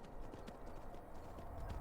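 Horse hooves clip-clopping in the video game Skyrim, a steady faint patter of footfalls over low background rumble, with no talking.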